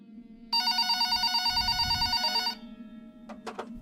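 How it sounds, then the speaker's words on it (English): A telephone on a shop counter rings in a single loud two-second burst of bright, buzzing electronic tone, followed by quieter background sound and a couple of faint clicks. "About an hour later, the phone on the counter rang."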